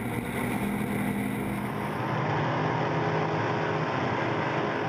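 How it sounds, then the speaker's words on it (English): A drag racing car's engine revs build at the start line of a drag racing event, a dense, steady, distant roar with a broad rumble that holds throughout without clear peaks. "You'll hear the revs start to build, and we will go racing."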